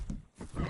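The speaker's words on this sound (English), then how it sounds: "A wild horse is a different beast to his domesticated brother." A horse neighs in a video game, a short whinny with a brief pause partway through, heard close and clear with no talking over it.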